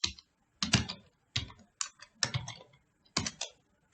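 Android app code is typed on a computer keyboard in rapid bursts of clicky keystrokes with short pauses between them. The sound is close and clear, with no talking.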